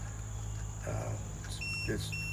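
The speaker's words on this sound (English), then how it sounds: "So I'm getting an alarm now, and it says that tire has got 0 PSI because there's no pressure on that." A TST tire pressure sensor monitor sounds a low-pressure alarm after a sensor is removed and reads zero pressure, giving short, steady electronic beep tones over a constant low hum.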